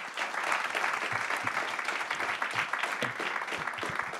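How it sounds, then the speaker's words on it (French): An audience at an opening conference session applauds to welcome the president of Transition Pro Île-de-France, a dense, steady wash of many hands clapping throughout with no talk. "avec quelques applaudissements s'il vous plaît, même beaucoup d'applaudissements"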